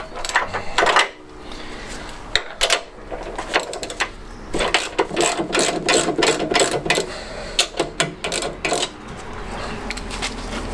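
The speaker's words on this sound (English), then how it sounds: "So get a ratchet with a 17 on. I'm just gonna, not gonna crack it off a lot," A ratchet with a 17 mm socket works a bolt on a classic Fiat 500 engine, giving rapid clicking bursts and metallic clanks in irregular runs, close and fairly loud.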